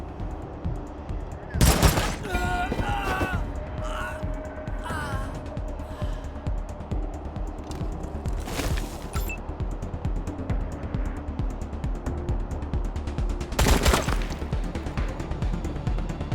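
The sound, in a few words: gunfire in the video game Wasteland 3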